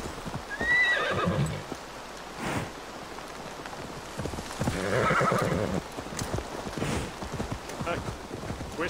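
A horse whinnies twice over steady hoofbeats and rain-like patter in Assassin's Creed Valhalla, with a game-style ambient backdrop throughout.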